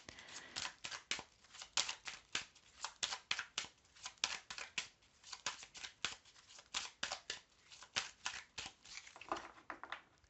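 Oracle cards are shuffled and cut by hand in a quiet room, a fast string of crisp riffling snaps and slaps following each other in uneven bursts, close and fairly soft.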